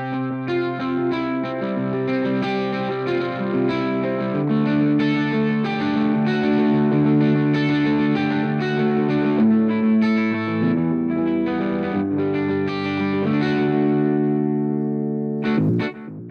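A bass guitar runs through an Amplitube amp simulator with Mesa and Orange amp models, playing a loud, sustained distorted line with a chorus-like shimmer, alone and without talk, ending in a few sharp plucked notes.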